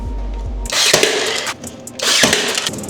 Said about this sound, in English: this piece is gonna end up a little bit long, so I'm just gonna cut that end off